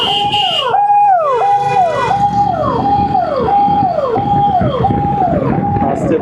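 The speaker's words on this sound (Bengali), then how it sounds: "পুলিশের গাড়ি।" A police car siren wails loudly and close on a street, rising and falling in a regular repeating cycle for the whole stretch, with a dog howling along near the start.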